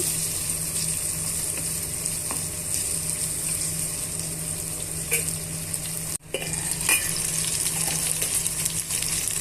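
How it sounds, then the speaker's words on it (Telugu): Brinjal and tomato pieces fry steadily in a pan for a tomato-brinjal curry, giving a continuous close sizzle with occasional crackles and a brief stir or clatter partway through. No one speaks. "నేను ఒక రెండు టొమాటోల్ని కట్ చేసి వేసుకున్నానండి ఇప్పుడు ఇవన్నీ కూడా బాగా మగ్గించుకోవాలి"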